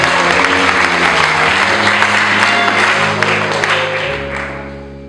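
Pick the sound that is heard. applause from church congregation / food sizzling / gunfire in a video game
applause from church congregation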